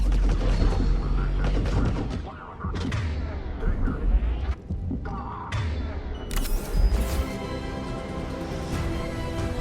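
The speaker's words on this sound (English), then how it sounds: "The checkpoint is under fire!" Gunfire at a checkpoint in Mass Effect 3: repeated booming shots and heavy impacts over a steady battle din, loud and dense, with occasional voices mixed in.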